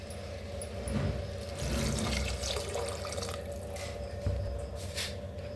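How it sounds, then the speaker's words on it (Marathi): Water is poured from a metal pot into a cooking pot of roasted spice masala for rice, making a steady close splashing gush throughout, with no talk. "दोन तांबे बघा पाणी ओतूया"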